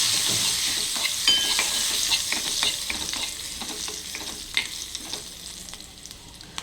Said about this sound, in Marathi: आणि लसूण त्यात मी घालणार आहे थोडासा फ्राय होण्यासाठी